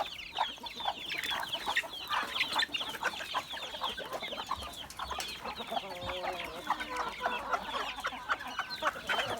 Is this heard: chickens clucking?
yes